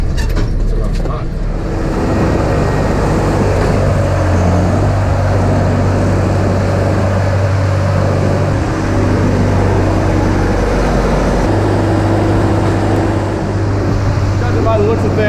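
A tractor drives across a rough farm field while spreading manure, its loud engine droning steadily and close with rattling and clunking over the bumps, and someone talks over it.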